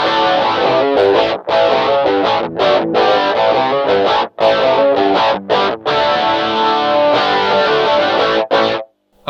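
Electric guitar on the bridge pickup played through a Nobels SST-19 distortion pedal, loud saturated chords and riffs with brief gaps between phrases.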